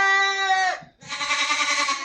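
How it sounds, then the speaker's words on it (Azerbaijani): Saanen goat kids at a livestock market let out two loud, close bleats back to back, the first steady and tonal, the second rougher and quavering. "Sağani keçilərinin balası."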